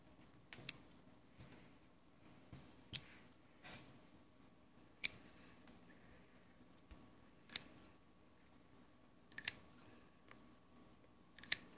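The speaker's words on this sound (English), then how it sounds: "I'm going to use my forceps and cut it." Forceps snip through squid skin during a dissection, a series of faint, sharp clicks spaced irregularly over a quiet background.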